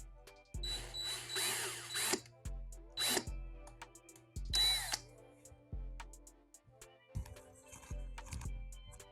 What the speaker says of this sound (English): It was a nice and smooth drill